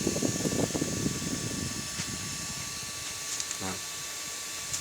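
A small Yamaha Vixion motorcycle radiator cooling fan whirs steadily with a mechanical rattle, loud at first and then settling into an even hum.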